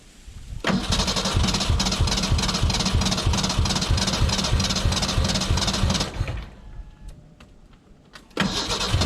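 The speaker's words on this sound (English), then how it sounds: "it's getting enough pressure to fire the injectors because it is popping" Abandoned Ford Ranger truck left in the woods for years, its engine cranking hard in a fast steady rhythm with sharp pops as it tries to fire, then cutting off to near quiet before cranking briefly resumes at the end.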